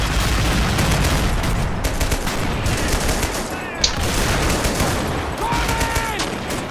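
Dense, loud gunfire from a Men of War Assault Squad 2 battle against German half-tracks, with continuous overlapping rifle and machine-gun bursts and a few sharper single shots throughout.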